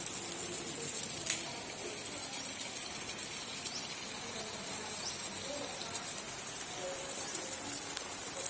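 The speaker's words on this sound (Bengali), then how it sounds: "এত বৃষ্টি হচ্ছে" Heavy rain falling steadily, a soft, even hiss of drops on surfaces at moderate distance, constant throughout with a few faint clicks and no speech.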